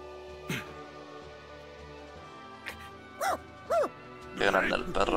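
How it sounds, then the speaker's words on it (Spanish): Large dog barking in the video game Dragon Ball Z: Kakarot, a few separate bow-wow barks and a yip spaced across several seconds over faint game background, with a louder burst at the end. "Qué grande el perro también."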